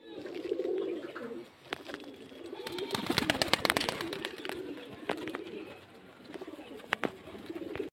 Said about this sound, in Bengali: পায়রাগুলো দেখছেন কতটা পায়রা এখানে আছে, খুব ভালো ভালো বাজির লাইনের পায়রা আছে